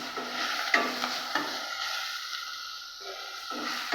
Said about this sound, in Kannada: ಇದನ್ನ ಕಾಳು ಮೆಣಸು ಇದ್ರ ಜೊತೆಗೆ ಹಾಕಿ ಹುರಿತೀನಿ